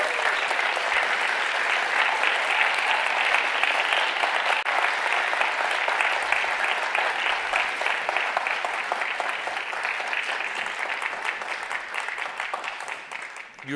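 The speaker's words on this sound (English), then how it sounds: "Give them a big round of applause." A large audience gives sustained, even applause as five finalists are welcomed onto a forum stage, a dense wash of clapping that holds steady for over ten seconds and tapers slightly at the end.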